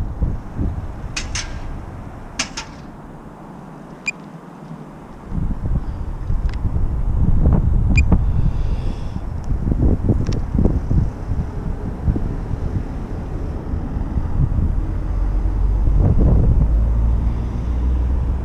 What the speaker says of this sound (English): So it's getting a bit windy now